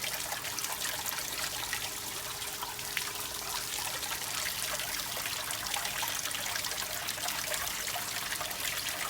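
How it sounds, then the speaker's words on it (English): Water draining out of a boat's jet pump as a continuous close trickle and gurgle, steady and fairly quiet throughout with no talking. "you should see the water now draining out of the jet pump"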